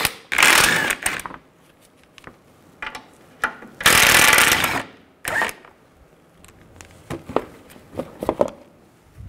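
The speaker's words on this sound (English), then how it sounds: "Take this shield off, use a 15 millimeter socket. There's four bolts." Ratchet with a 15 mm socket loosening the shield bolts on a 1999-2007 Chevy Silverado 2500, fast clicking bursts in two long runs followed by short scattered clicks and taps.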